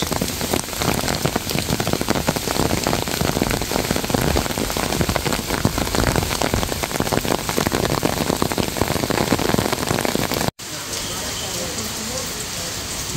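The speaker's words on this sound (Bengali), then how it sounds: "আর দেখতেই পাচ্ছেন যে মুষলধারে কিন্তু বৃষ্টি চলছে।" Heavy rain pours down steadily at Pakshi railway station area, in a dense, continuous roar, its character shifting slightly near the end.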